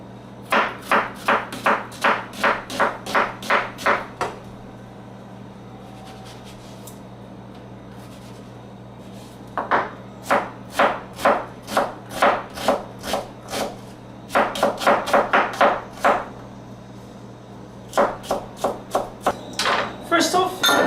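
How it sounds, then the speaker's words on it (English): A knife chops an onion for Moroccan harira soup on a cutting board, sharp rapid knocks in several fast bursts separated by pauses, close and crisp, over a low steady background hum. "we start chopping our onion"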